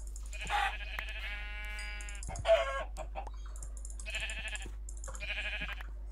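Several synthetic-sounding sheep bleats from a video game come in short bursts, one after another with pauses between, fairly clear against a quiet background hum.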